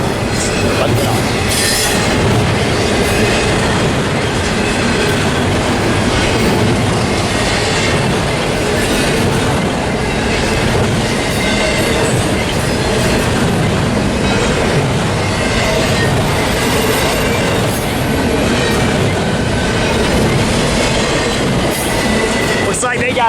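A freight train accelerates past on open rails at Commerce and Fullerton, a loud continuous roar of rolling cars with clattering wheels and squealing, close and sustained throughout, with faint voices underneath.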